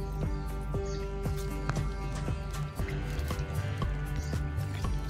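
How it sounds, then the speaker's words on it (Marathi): Water sprinkled a little at a time over sprouting field bean seedlings in a field, giving soft, scattered patters and drips, with birds chirping nearby throughout. "रोज थोडं थोडं पाणी असं शिंपडायचं"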